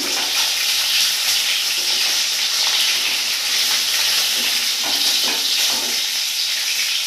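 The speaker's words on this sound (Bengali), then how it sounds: "মাছগুলো আমার হালকা ভাজা হয়ে গেছে, আমি এখন তুলে নিচ্ছি।" Katla fish pieces fry in hot oil, giving a bright, continuous sizzle with small crackling pops. The sound stays close and fairly loud, with no talking.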